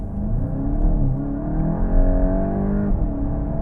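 A tuned VW Golf GTI Mk8 with traction control disabled accelerates hard, a steady engine drone rising in pitch through the gears, heard close from inside the car.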